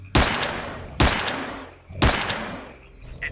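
Three loud gunshots in the S.T.A.L.K.E.R.: Clear Sky video game, fired about a second apart, each a sharp crack with a ringing decay and no talk over it.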